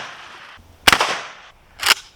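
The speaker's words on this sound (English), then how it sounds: "watching me shoot all these guns, these big manly guns" Two sharp, loud gunshots about a second apart, each a close crack with a brief ringing decay, fired while testing whether household items stop a bullet; no talking.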